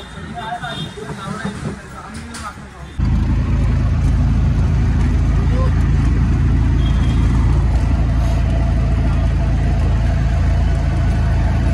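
An auto rickshaw carrying passengers, its engine running steadily. A loud, constant low drone and road rumble fill the clip after a quieter, busier opening, with muffled voices underneath.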